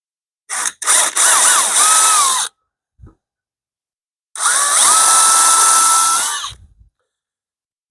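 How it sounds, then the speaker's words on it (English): A power drill whirs up loudly in two bursts, pre-drilling screw holes in wood for a train table, the motor pitch rising and falling as it bites, with a short quiet gap between. "Pre-drill so you don't split."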